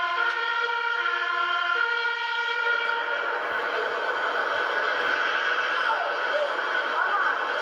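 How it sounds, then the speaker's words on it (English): A siren wails loudly with steady harmonic tones, its pitch shifting slightly over several seconds. "Different sounding siren."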